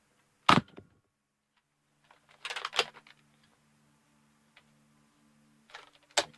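Adventure Force Double Fire toy dart blaster firing both darts: a sharp snap, then a cluster of mechanical clicks and clatter, and another sharp shot at the end, separated by quiet.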